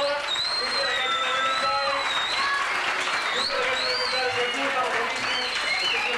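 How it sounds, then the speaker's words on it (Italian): Audience applause at a community festival show in Italy, steady moderate clapping from a crowd with whistle-like tones and voices layered over it. "facciamo un applauso grandissimo a tutti quelli che sono seguiti finora"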